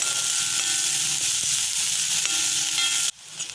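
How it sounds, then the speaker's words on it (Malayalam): Sliced onions sauté in hot coconut oil for a mackerel fish curry, giving a steady, close, dense sizzle that cuts off abruptly near the end. "ഇനി ഇതിലേക്ക് അരിഞ്ഞു വെച്ചിരിക്കുന്ന സവാള ഉള്ളി ചേർത്ത് കൊടുക്കാം"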